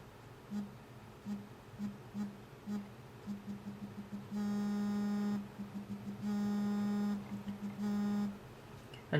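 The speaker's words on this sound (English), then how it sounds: "All you do is hit the screen and where you want it to vibrate" A Samsung Galaxy S3 plays back a custom vibration pattern: a steady buzzing hum, first in short pulses and then in longer sustained stretches separated by brief gaps, fairly quiet and close.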